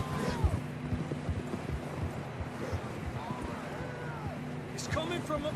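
Horse hooves clip-clop steadily in Red Dead Redemption 2 as riders travel toward mountains, a rapid rhythmic patter with low game music and ambience underneath and a faint whinny near the end.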